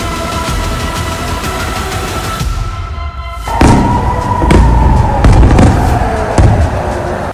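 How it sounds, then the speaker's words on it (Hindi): Ballistic missiles fired across the sky over Israel: a loud, continuous roaring rumble, then a sudden shift into heavier booming with repeated deep thuds and cracks in the second half. "इजराइल के आसमान में आग उगलती इन बैलिस्टिक मिसाइलों ने एक बहुत बड़े खतरे को दावत दे दी है।"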